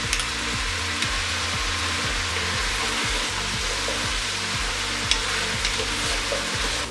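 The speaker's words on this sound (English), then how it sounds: "We just want to saute this." Chopped vegetables for lobster bisque sauté steadily in a hot pan, a continuous close sizzle and crackle with periodic scraping stirs, no talking.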